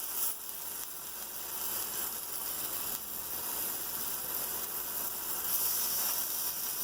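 Onions and tomatoes sizzle in a pan on a high flame, a steady crackling hiss that rises slightly near the end, with no talking.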